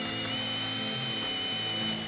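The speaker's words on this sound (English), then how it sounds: "So we're going to start by drilling these holes." A steady, loud power drill whirring continuously at close range as it drills holes in the frame of a 1967-72 Ford F100/F250 truck bed, with a constant high-pitched motor whine and no talking.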